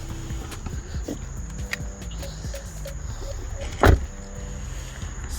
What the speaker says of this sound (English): all Tesla Model 3s come with an automatic opening trunk